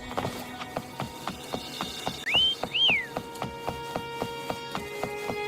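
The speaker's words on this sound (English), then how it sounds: "Try whistling." Within the video game Wuthering Waves, a character gives two quick rising whistles to call a creature, heard alone over a steady rhythmic tapping of wooden hoofbeats or footsteps.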